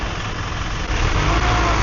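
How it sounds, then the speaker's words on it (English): A loud truck engine rumbles steadily on a road in Phuket, Thailand, a heavy low drone with a slight rise in the second half, close by and continuous with no talk. "Smooth sailing, aside from this truck being quite loud"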